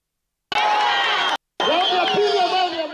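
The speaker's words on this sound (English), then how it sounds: "Sounds and ululations, drum beats and cheers fill the air at the Lake Victoria Pier" Spectators at lake boat races by a pier cheer loudly, with wavering high ululations rising through the crowd noise; the roar cuts out briefly, then returns with trilling voices.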